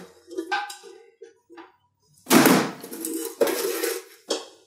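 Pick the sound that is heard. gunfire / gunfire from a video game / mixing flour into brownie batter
mixing flour into brownie batter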